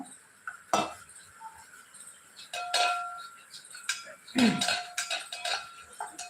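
A spoon stirs a thick sweet mixture of flour and sugar in a metal pan, making intermittent clinks and scrapes. The strokes are quiet and uneven, with short pauses between them.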